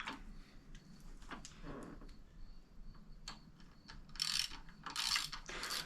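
Riser bolts on a Tririg Alpha Prime aero bar being tightened on a Speed Concept SLR bicycle, faint close ratcheting clicks and soft metallic ticks in irregular bursts, with a few louder scraping rasps near the end.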